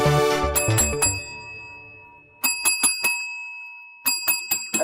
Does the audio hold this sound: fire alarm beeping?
no